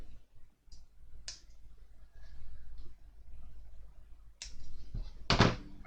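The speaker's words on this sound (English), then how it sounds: "we need to get the sprue cutters and we need to cut these off" Sprue cutters snipping plastic model kit parts off the sprue in a quiet setting, giving several sharp isolated clicks and snaps, the last one louder, with faint handling noise between them.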